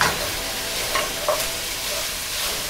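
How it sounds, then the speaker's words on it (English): Chicken for paella sizzles and crackles steadily in a hot pan, with a few soft stirring scrapes over the continuous hiss. "what you're hearing right now is part of the chicken that's cooking"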